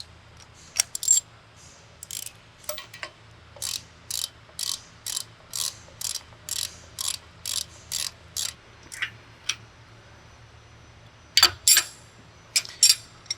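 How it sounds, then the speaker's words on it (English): A 16mm socket ratchet tightens flange bolts on a Geoprobe DM450 swivel joint, giving a long run of evenly spaced close clicking bursts with a short pause before a few final louder clicks. "And then we tighten up the bolts with our 16mm socket."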